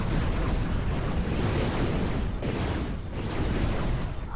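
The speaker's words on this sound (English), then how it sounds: "there was a big explosion somewhere" A big explosion in the naval combat game From the Depths, a sustained roaring, rumbling blast that fills the whole span at steady loudness with no talk over it.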